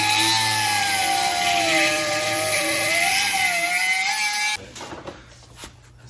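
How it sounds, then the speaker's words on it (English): A cutoff wheel cuts metal on a Yamaha FX FZR build, a loud, steady high-pitched grinding whine that wavers slightly in pitch, then stops abruptly near the end, leaving quiet workshop noise. "We're actually gonna get the cutoff wheel."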